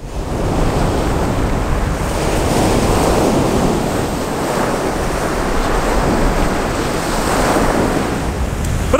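Surf crashing onto a pebble beach on a dull day, a steady loud roar of breaking waves with rolling swells and wind noise throughout, no voices.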